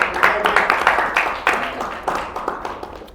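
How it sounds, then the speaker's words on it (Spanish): An audience clapping for a guest at a leadership breakfast, a steady close patter of many hands with brief swells, no voices over it. "quiero que le demos un fuerte aplauso a David"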